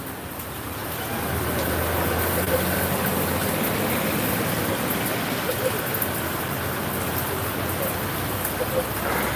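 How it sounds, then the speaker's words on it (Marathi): Steady rain pours down outdoors in a monsoon setting, a dense, even hiss that swells in at the start and then holds constant, with faint traffic rumble beneath. "अतिशय सुंदर असा पाऊस निसर्गरम्य वातावरण"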